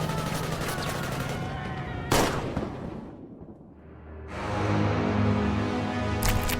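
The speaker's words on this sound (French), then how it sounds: "le ciel a rugi sous les coups de feu." Sustained gunfire in a wartime battle scene, with a sharp loud burst near two seconds, a brief dip, then dense rumbling volleys resuming, heavy and continuous throughout.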